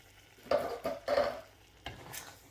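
Chilli con chicken with tomatoes being stirred in a pan, a few separate bursts of scraping and wet churning with a soft sizzle beneath, close by.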